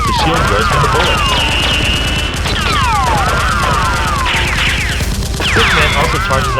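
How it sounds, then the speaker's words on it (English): Henchman firing Nerf guns in a staged action fight, a dense, continuous barrage of rapid shots and crashes with whistling effects, loud throughout and mixed as a film soundtrack. "A henchman suddenly charges out, firing, forcing Roll to shield Rose from the bullets"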